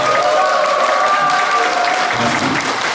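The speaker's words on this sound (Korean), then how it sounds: "긴장 끝나는 뜻으로 축하의 박수 한번 크게 부탁드립니다" Wedding guests applaud loudly and steadily for about three seconds, a dense crowd clapping that fills the hall without pause.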